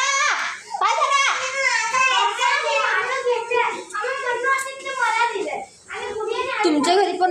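A young girl cries and wails up close while her sisters fight nearby, her sobbing mixed with other children's voices, loud and continuous.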